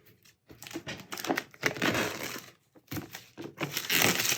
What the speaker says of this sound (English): So I'm just gonna cut up this little plastic over here.